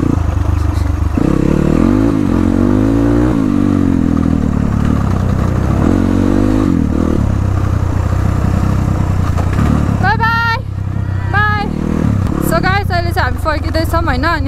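A motorcycle on a dirt trail ride toward Mohini Jharna waterfall at Kulekhani, its mid-pitched engine droning close and steady with revving swells and rattling clatter over rough ground, while a voice talks throughout.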